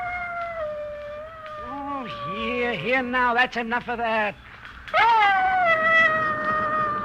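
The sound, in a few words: dog Ranger howling and whining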